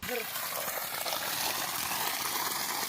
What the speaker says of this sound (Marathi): आपण पाहू शकता किती की फास्ट पाणी फेकणार आहे